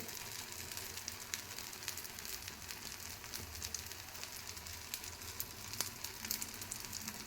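Paddu batter fries in an appe pan over a medium flame, giving a faint, steady sizzle with small crackles and pops and no talk.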